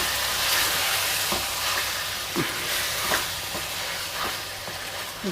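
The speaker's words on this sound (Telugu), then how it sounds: "ఒకసారి అయితే ఇట్లా నీట్గానే ఫ్రై చేపిద్దాం." Chicken leg pieces fry in a small kadai with a loud, steady sizzle, while a spatula stirs through them in several distinct scraping strokes spread across the clip.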